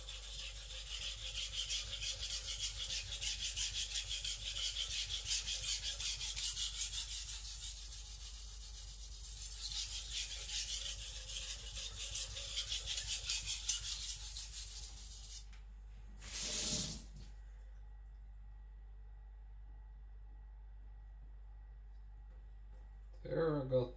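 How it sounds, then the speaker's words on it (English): A blade is worked steadily across a sharpening stone for about fifteen seconds, a close, continuous rasping rub that then stops, leaving near silence with two brief bursts of noise afterward. "Doing burr minimizing, sharpening, lightening up, letting the stone load a little"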